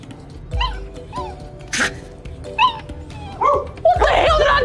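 A dog gives a series of short whimpers, yips and whiny barks at close range, with a voice talking over parts of it.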